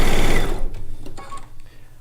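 A sewing machine stitches long seams on a log cabin quilt top, a loud steady whirring run at the start that fades to a lighter hum as a voice talks over it.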